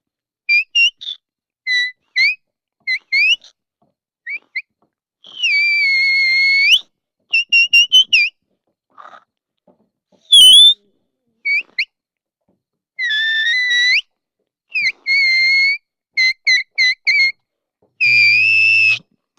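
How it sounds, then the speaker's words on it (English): A series of clear whistle blasts in changing pitches: short chirps, longer sustained tones and quick trills, loud and close with brief pauses between. "there are so many different tones and commands that you can do with"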